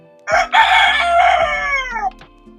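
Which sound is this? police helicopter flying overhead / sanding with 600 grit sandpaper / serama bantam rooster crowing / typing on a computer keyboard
serama bantam rooster crowing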